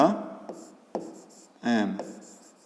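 A pen scratches across paper in short strokes while a geometry problem on angles is worked out, with a brief burst of speech partway through.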